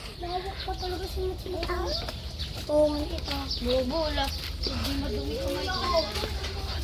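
Chickens clucking close by in short, uneven bursts, with some talking mixed in over a low background hum.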